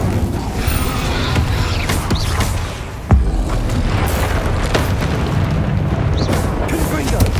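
The Incendio fire spell bursts repeatedly in Hogwarts Legacy, with booming, roaring blasts and a sharp crack partway through over continuous combat noise, and a voice is heard at times.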